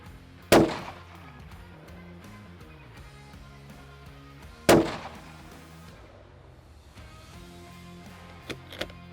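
Two sharp, loud rifle shots ring out about four seconds apart, each with a short echoing decay, over a low background hum. Faint clicks follow near the end.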